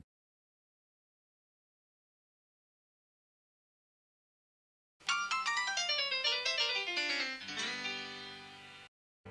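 A ringtone starts after a long silence: a bright, piano-like melody of quick rippling notes plays loud and alone for about four seconds, then cuts off abruptly.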